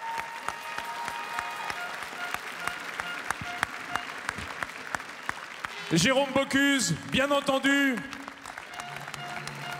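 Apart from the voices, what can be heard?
audience applause at the Bocuse d'Or awards ceremony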